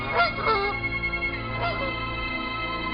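A goose honks several times, loud and close with a slightly echoey, processed tone, the calls spread over a few seconds with no talk.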